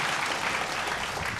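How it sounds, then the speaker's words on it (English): Audience applause for singer Daniel Wenolu at a televised vocal competition, a dense steady wash of many hands clapping throughout with no break. "Another round of applause, please, for Daniel Wenolu."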